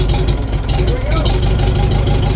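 A Farmall Super H tractor engine runs with a close, loud, steady low chug throughout the short stretch, and a voice speaks over it.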